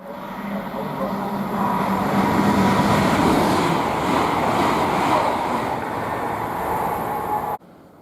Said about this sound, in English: the next train to pass by, we have 800-029 heading from Cheltenham Spa to London Paddington